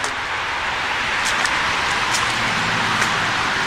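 Road traffic rushes steadily beside a walking trail along a run with gravel beds, a loud, broad continuous roar of passing cars with a few brief swells and no voices.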